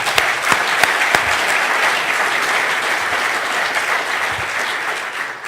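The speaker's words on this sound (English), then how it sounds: "I would like to applaud her" A room full of people claps steadily and warmly at the Rosetta spacecraft's comet arrival event, a dense continuous applause with a few sharper claps standing out early on.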